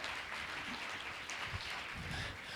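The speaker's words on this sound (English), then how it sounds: "Nice round of applause for Room Taken, or best humanitarian short." An audience at an awards ceremony gives steady, continuous applause for a humanitarian short film, heard faint and distant throughout.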